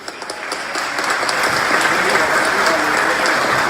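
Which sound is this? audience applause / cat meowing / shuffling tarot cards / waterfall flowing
audience applause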